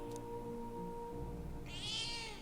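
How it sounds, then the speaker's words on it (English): A cat meows in the video game Metaphor: ReFantazio, one short rising call standing out over a steady hum of game music. "Cat."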